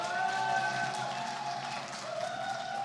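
An indoor audience at a geopark interpretation contest claps to welcome a guide, a steady, moderately loud wash of many hands throughout the short span with no pause.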